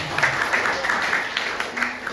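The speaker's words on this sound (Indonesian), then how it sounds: "Tepuk tangan dulu buat Tuhan." A congregation claps during a church sermon in a brief, even round of applause, with voices blending faintly into it.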